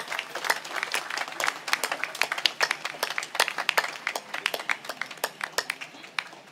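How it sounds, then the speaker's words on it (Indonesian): Applause from the congregation at a large school anniversary mass, a room of scattered hand claps that gradually settles into a more rhythmic pattern, moderately loud and with no talk over it. "Mari kita beri tepuk tangan yang meriah."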